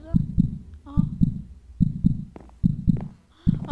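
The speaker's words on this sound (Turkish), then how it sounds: "Kalp sesi geliyor abi." Heartbeat effect from a horror video game, loud paired thumps repeating in a steady lub-dub rhythm, with brief voice fragments between beats.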